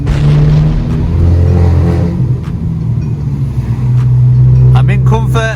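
A stage 2 tuned Audi A3 1.8 TFSI driving in the rain, its engine humming steadily through slightly open windows with a brief rise in revs, heard from inside the car.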